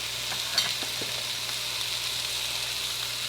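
Two pounds of ground beef frying in a pan, a steady close sizzle with a few faint clicks of stirring, under a low hum and with no talk.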